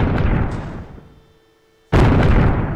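Bazooka blasts in a VR sandbox game: one booming explosion decays into quiet, then a second sharp burst hits loud and close.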